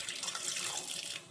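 Half a cup of water is poured into a pot already holding milk and grated carrot for gajar halwa, giving a close, continuous splashing trickle with no talk over it.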